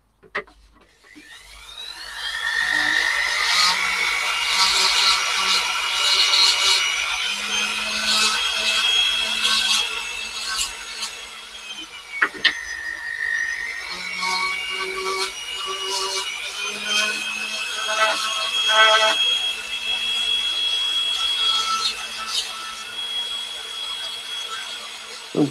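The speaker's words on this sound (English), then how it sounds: "I've got the drill on, Baz." A power drill whines and grinds against wood while carving, its pitch shifting as the bit bites and eases, continuous for a long stretch.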